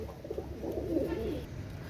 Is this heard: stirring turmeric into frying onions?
no